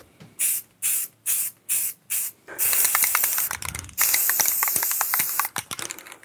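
Paint being sprayed on a coat, several short hissing bursts followed by longer continuous spraying, loud and close with no talking.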